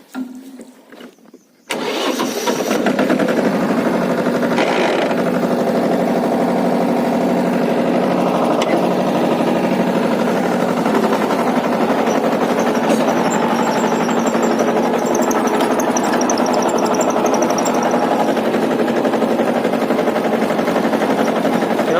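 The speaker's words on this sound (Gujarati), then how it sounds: "જો આપણે ચાલુ કરું છું ટ્રેક્ટર।" A tractor engine in a mango orchard cranks briefly after a quiet moment, catches, and settles into a loud, steady rumbling idle that runs on unbroken for the rest of the clip.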